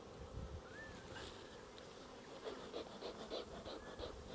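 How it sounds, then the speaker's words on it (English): Honeybees buzz steadily around an opened hive during a hive merge, a dense, continuous hum with individual bees whining past close by now and then. No one speaks. "sometimes it's useful to put your inner cover on a little bit of an angle so that as you spin it, it'll sweep those bees out of the way"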